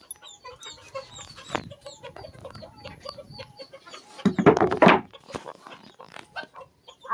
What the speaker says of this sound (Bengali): মুরগিগুলো দেখেছে সবে খেতে দিয়েছি, সব চলে গেছে।